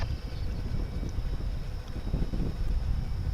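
Steady wind gusting across the microphone at Dallas/Fort Worth International Airport, a loud low rumbling buffet with a faint high tone running throughout.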